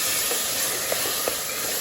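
Ginger frying in a pan while being stirred continuously for meat rice, a steady close sizzling hiss with a couple of faint scraping knocks from the stirring, no voices.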